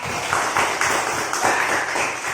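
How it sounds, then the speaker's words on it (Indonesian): A classroom of students claps together in a rhythmic pattern, with bursts of claps repeating about every half second at a moderate, even volume. "Tepuk tangan dulu buat."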